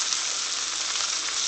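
Cube steak frying in a pan, a steady dense sizzle and crackle that holds at an even level throughout, with no voices.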